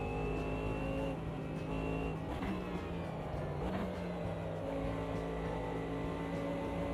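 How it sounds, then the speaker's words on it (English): A race car engine in a racing game drones at steady, high revs with the throttle stuck open, its pitch holding and wavering slightly without backing off, loud and continuous throughout. "No, throttle stuck open again."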